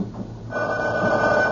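A telephone bell rings loudly and steadily in an old radio drama, a bedside phone in a tense scene, the ring starting partway through and continuing to the end without talk.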